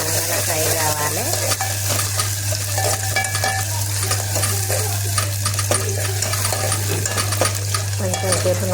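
Bitter gourd pieces frying in oil for a tamarind curry, a continuous close sizzle with clinking and scraping of a spoon against the pan over a steady low hum.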